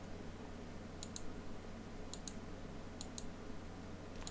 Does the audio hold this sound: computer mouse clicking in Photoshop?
yes